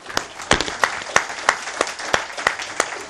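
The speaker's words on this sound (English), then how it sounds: "If you will now join me in a round of applause for both our speakers." Applause for two speakers after a talk, heard as a sparse, regular run of distinct claps, about three per second, fairly close and not a dense crowd roar.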